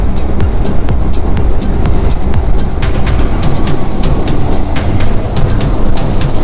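Traffic on the Mangaluru–Hassan (BM) highway during a ride on a 390 Adventure motorcycle: steady loud road and wind rumble with passing vehicles, continuous and close, with no talk.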